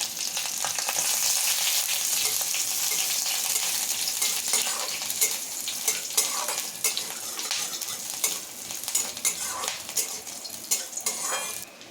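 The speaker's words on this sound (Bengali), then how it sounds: "রসুনগুলি লাল লাল করে ভাজা হয়ে গেছে" Crackling sizzle of garlic frying in oil until reddish-brown, with scraping and clinking as a utensil stirs the pan; clear and close, no voices.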